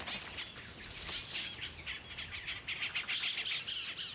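Cacique birds mob a much larger toucan in the wild, raising a dense chorus of loud harsh squawks and chirps that overlap continuously at mid distance.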